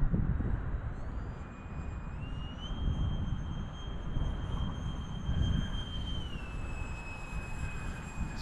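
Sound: jet-powered RC flying wing flying under throttle

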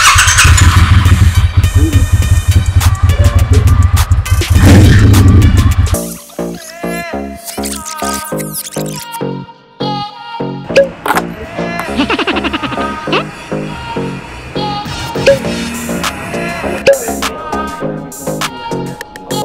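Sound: Triumph Thruxton 1200cc cafe racer motorcycle engine

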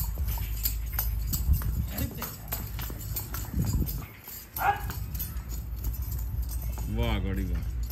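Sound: mare walking, hooves clip-clopping

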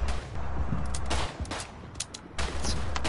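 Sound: gunfire in the video game Verdun

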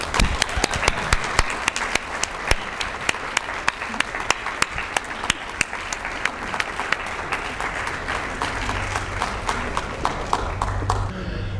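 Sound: audience applause welcoming speaker Dr. William Harris

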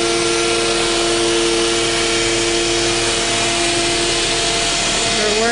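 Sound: directional drilling rig running

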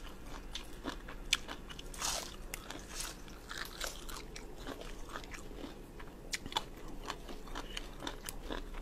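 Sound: biting and crunching a crispy snack

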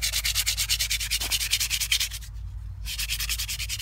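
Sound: sanding cured axe handle whipping with 150 grit sandpaper

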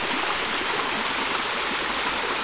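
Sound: water flowing out of a rock

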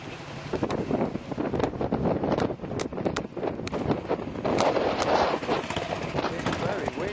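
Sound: wind blowing outdoors

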